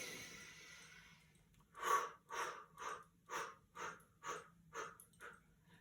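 During a standing Qigong release exercise, a person breathes out audibly in about eight rhythmic, evenly spaced breaths, close and fairly soft, after a quieter opening.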